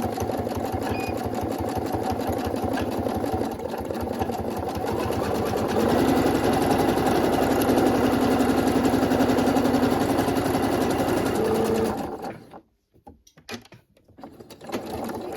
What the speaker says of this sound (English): what I'm going to do now is I'm going to edge stitch both of those sides.